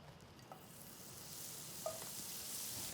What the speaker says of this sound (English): I'm going to pop some butter in here.